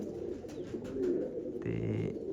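Pigeons cooing inside their coop, a soft rumbling coo that swells in the latter half, set against steady room noise and a murmur of background activity.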